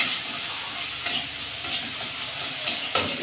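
Chopped onions with black cumin seeds sizzle steadily in a pan alongside lightly fried prawns, giving a dense, even hiss broken by occasional stirring taps, with no voices.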